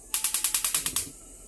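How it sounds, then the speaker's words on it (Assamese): A gas stove igniter clicking rapidly about nine times in an even rhythm while being lit, close and crisp, followed by quiet. "এটা মই গ্যাসটো ধৰাই দিম"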